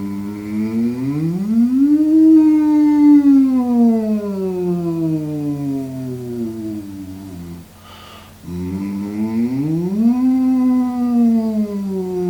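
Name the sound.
voices imitating a siren while humming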